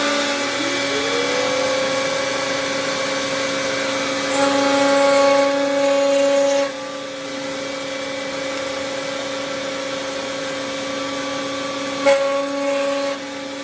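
A wood router fitted with a carbide insert bit whines steadily as it cuts grooves in wood, a sustained high motor tone that shifts pitch briefly under load and runs alone without talk.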